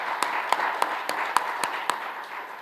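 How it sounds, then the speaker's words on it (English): Applause for the board at a Rochester Chamber annual breakfast: evenly spaced, crisp hand claps in a steady rhythm over a constant low room hum, moderately quiet and without speech. "please give them a round of applause for"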